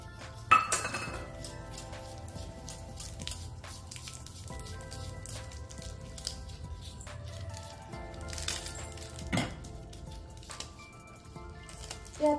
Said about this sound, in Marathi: आता हे थोडं थोडं टाकून सर्व मिक्स करून घ्यायचंय।